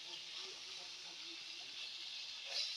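Snakehead fish fries in a hot pan, giving a soft, steady sizzle that stays even and faint throughout.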